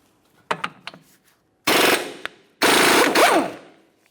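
A pneumatic impact wrench works loose the 32mm axle nut on a 2006-2011 Honda Civic, with a few light clicks and taps followed by two loud, sustained rattling bursts close by, separated by a brief pause.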